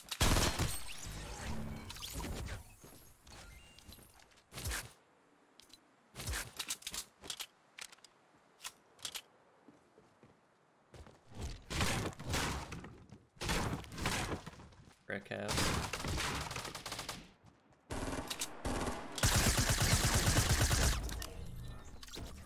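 Bursts of rapid gunfire from the video game Fortnite, with a Tac SMG in play, crackle in clustered volleys separated by quieter gaps, with speech in between.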